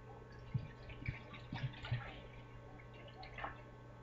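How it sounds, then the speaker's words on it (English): Water pours from a shaker bottle into a 3-quart pot, a few soft splashes and drips up close, then quiet trickling fading out. "we're going to put 2 cups of water"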